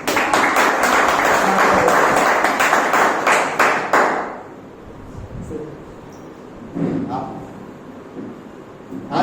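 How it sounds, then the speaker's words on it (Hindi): Loud audience applause from a motivational talk crowd fills the first four seconds as dense, sustained clapping, then cuts off to quieter room sound with brief voices. "जोरदार तालियां।"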